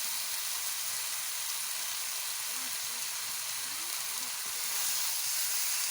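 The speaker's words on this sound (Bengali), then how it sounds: "আমরা মাংসটা সুন্দর করে কষিয়ে নিচ্ছি" Beef braises in spices in a pot over a clay stove with a continuous broad sizzle and hiss, steady and close, with a faint voice murmuring underneath.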